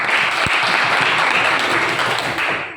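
Loud, close applause from a group in a classroom lesson, dense overlapping claps filling the whole stretch evenly before tapering off at the very end, with no talking over it.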